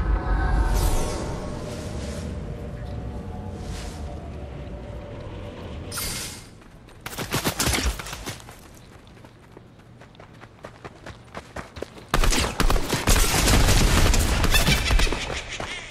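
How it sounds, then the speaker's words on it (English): Sloan's burst assault rifle fires in a video game, a 1v1 match. Rapid crackling bursts come in two loud stretches, one short and one sustained near the end, after a quieter rumbling stretch. "Sloan's burst assault rifle."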